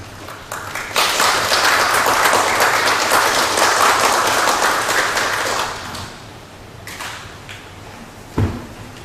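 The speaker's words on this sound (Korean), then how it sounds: "큰 박수로 맞이해 주시기 바라겠습니다." Audience applause at an architecture and urban space forum, welcoming the opening speaker: sustained clapping from a large hall crowd, loud for about five seconds before tapering off, followed by a few scattered sounds.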